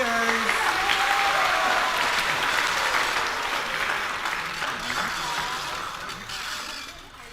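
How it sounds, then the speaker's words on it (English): A congregation applauds the Megillah readers at a Purim service, a broad sustained clapping from a large crowd that holds strong and then gradually tapers off. "Big round of applause for our Megillah readers."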